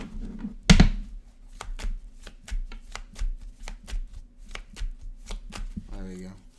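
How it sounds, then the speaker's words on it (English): A deck of tarot cards is shuffled up close: one sharp riffle burst, then a steady run of crisp card flicks and taps that ends in a short voiced sound. "Two more shuffles."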